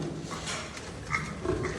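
Piglets grunting in a pig-farming setting, a steady close chorus of low grunts and snuffles with a couple of louder squeaks near the end, no talk.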